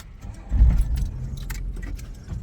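Keys jingle briefly, then a car door thumps shut nearby with a low rumble and faint rustling as someone settles into the seat, during heavy rain in Madinah.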